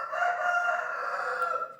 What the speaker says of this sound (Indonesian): Berisik sekali itu ayam.